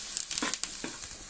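Sliced onions and green chillies fry in oil for a mango chicken curry, a close crackling sizzle with a few quick stirring scrapes, brief and without speech.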